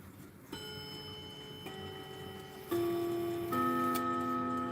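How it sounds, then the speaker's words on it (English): A 1927 New Haven Orleans clock ticks evenly and quietly on its own, with a steady sustained ringing tone underneath that steps louder partway through. "but it's ticking. It's ticking evenly."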